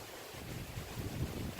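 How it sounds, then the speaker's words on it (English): Wind gusts buffet the microphone in a low, rumbling roar that surges and fades over a couple of seconds. "I hope this isn't too windy for you guys."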